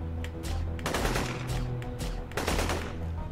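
Bursts of rapid gunfire from a weapon in the video game Dex, two dense volleys close and loud with a brief lull between them, no talking.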